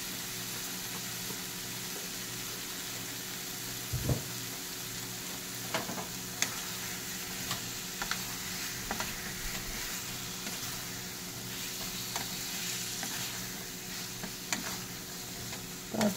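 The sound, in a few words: potatoes frying with ground spices for aloo dum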